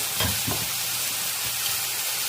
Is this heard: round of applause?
no